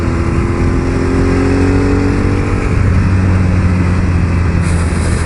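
A Ducati 848 sport bike is being ridden, its engine droning loudly and steadily throughout with a slight pitch shift partway, mixed with constant wind rush.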